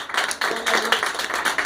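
A church congregation claps loudly at a Spanish-language sermon, a dense burst of fast, close applause that runs the whole short stretch.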